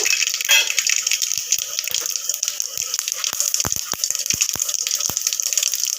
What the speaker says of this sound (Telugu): ఫస్ట్ ఆవాలు వేస్తున్నాను